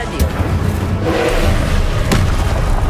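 Fire spell bursts from Incendium casts in Hogwarts Legacy, heavy booming thuds with a sustained roar over constant loud game noise, two sharper hits standing out near the start and later.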